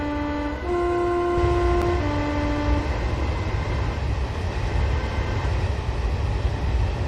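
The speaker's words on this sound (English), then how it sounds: "I also like the horn on this train, I think it's absolutely great." A Class 314 electric train in a train simulator game sounds its two-tone horn in a few clear blasts over a steady rumble of the moving train, then the horn stops and only the running noise continues.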